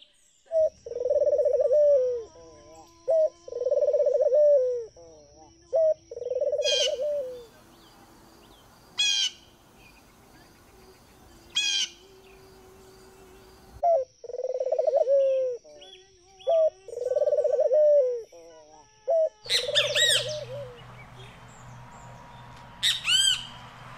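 Birds squawk and an owl hoots in a film soundtrack, loud close calls repeating in short bursts separated by pauses, with a steady high tone underneath and a denser chorus of calls near the end.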